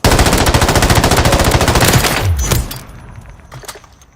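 Rapid sustained automatic fire from an M13 assault rifle with a 60-round magazine in Call of Duty Warzone, loud and close for about two and a half seconds, then fading echoes and a few faint clicks.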